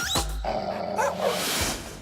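Dog barking at the Hudson Yards dog park in New York, a couple of sharp close barks rising over steady outdoor city ambience with no talk.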